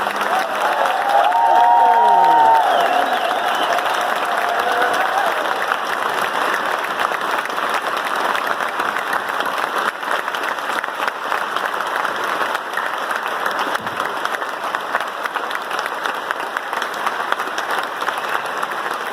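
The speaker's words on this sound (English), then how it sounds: "while we offer a final round of applause to recognise our graduates' achievements" A university graduation ceremony crowd in Southampton gives a final round of applause and cheering for graduates, a long, even wash of clapping with a brief cheer near the start.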